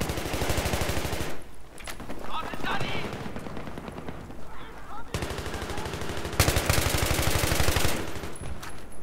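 L86 light machine gun fire during a Battlefield 3 multiplayer team deathmatch at a train station, loud sustained bursts of rapid shots with brief pauses, mixed with game noise and someone talking over it.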